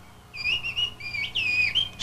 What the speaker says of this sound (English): Shepherds there used to communicate across long distances by whistling.